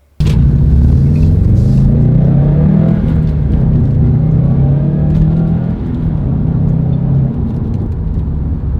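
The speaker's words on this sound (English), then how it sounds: "we're in my Subaru WRX STI, and as probably a lot of you would know, these cars are known for their rumbly exhaust" Inside a Subaru WRX STI on the road, a deep, rumbly exhaust drones continuously with road noise beneath it, loud and close, with no talking.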